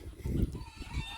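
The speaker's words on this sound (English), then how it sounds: "that sound you hear is some chickens." Chickens in an old, dilapidated chicken coop on a Goliad, Texas farm make low, throaty clucking sounds in short bursts. The clucks sound close and fairly soft, with no voices over them.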